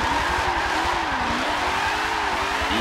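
Dodge SRT Demon drifting through long slides, tires squealing steadily for a sustained stretch over a loud, continuous engine roar.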